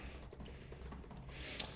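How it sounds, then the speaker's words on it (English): Faint, quick keystrokes as a password is typed on a computer keyboard, soft irregular clicks barely above a low room hum, with no talking. "I'm going to look away briefly whilst I type in my password."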